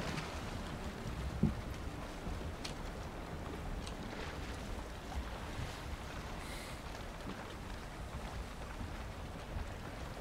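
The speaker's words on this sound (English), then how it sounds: "I can see that it's out there kind of thrashing some waves about." Water churned and splashed by an unseen creature thrashing waves in Valheim, a steady washing rumble of surf and wind with a brief louder splash near the start, no talking.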